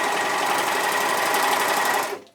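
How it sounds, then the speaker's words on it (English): A regular sewing machine stitching fabric for a custom dress, a fast, steady mechanical whirring rattle held close and loud for about two seconds before stopping abruptly. "so that way I can sew everything else up with just the regular sewing machine"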